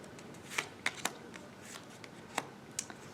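Playing cards flipped onto a table during a multiplication card game; several soft, quick snaps spaced irregularly, close but faint against a quiet room.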